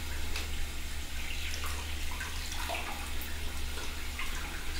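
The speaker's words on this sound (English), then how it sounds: "Pop your hands under the water." Hands held under a running tap at a sink in a care setting, a steady close wash of flowing water with light splashing and no talk.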